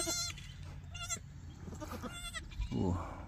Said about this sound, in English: Little baby goats.